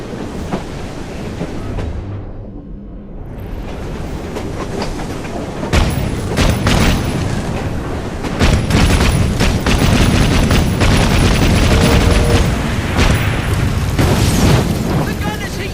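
A dynamite-laden train carriage blows up in Assassin's Creed Syndicate, a loud booming blast followed by sustained rumbling and crackling debris over ongoing game noise, with voices talking throughout.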